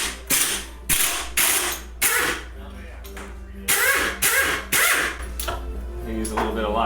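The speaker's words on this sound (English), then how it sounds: "Now we're going to take the cartridge out. With an impact." An impact wrench in reverse removes the suspension cartridge from a 2015 BMW S1000RR in a workshop. Loud, sharp rattling bursts repeat about eight times in uneven succession, with short quiet gaps between them.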